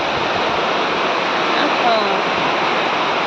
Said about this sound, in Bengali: দেখবেন কি প্রচুর পরিমাণে বৃষ্টি হচ্ছে